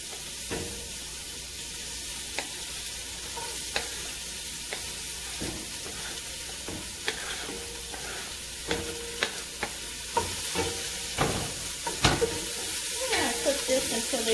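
Chopped green onions and leeks frying in a pan, a continuous sizzle broken by frequent scraping and tapping as they are stirred, busier toward the end.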